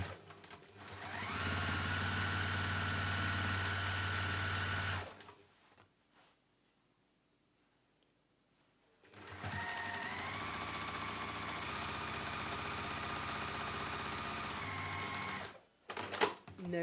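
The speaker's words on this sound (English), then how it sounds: "So I've left my turning through gap, and then let's sew down this side." Sewing machine stitching down the side of a fabric book sleeve, running steadily for about four seconds, pausing in near silence, then starting again and running continuously until the end.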